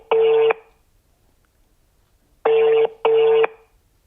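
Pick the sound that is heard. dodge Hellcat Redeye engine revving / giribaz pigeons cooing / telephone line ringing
telephone line ringing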